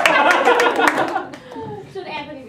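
An audience at a comedy stage show gives a dense burst of applause and scattered claps that fades after a second, then voices and children's chatter take over.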